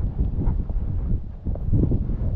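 Wind sweeping across a tall-grass campsite near the ocean, a low, rough rumbling buffeting of the microphone that gusts and swells unevenly throughout, close and steady with no voices.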